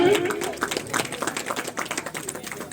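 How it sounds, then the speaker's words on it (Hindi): An audience claps to welcome guests at a Brahma Kumaris ceremony consecrating Shiv family idols: a steady, fairly close patter of many hands through the whole stretch, with voices mixed in under it. "अब तालियों से इनकी स्वागत करी जाएगी"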